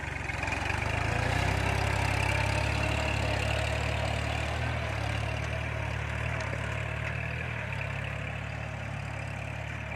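A Kubota L4018 SP tractor plowing with a six-disc plow runs steadily with a low, rumbling drone, loud and close, holding an even pace throughout with no voices.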